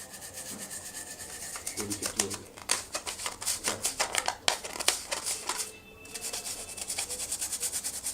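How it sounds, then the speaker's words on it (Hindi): A kitchen sieve caked with burnt grime being scrubbed hard with a brush, giving rapid rhythmic rasping strokes that build in intensity, pause briefly, then resume close and steady with no talking. "ये देखिए मैंने अच्छी तरीके से अपनी छन्नी को हर तरफ से ब्रश की मदद से रगड़ लिया है।"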